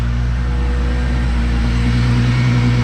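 A 12-valve VR6 engine in a Jetta wagon idles smoothly, a steady, loud, even hum with a low drone and no breaks, close by.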